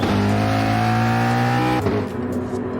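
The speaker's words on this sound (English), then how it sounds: "What an engine noise." A loud, high-pitched race car engine in Gran Turismo 5 at Monza whines steadily, then shifts and drops in pitch as it pulls away.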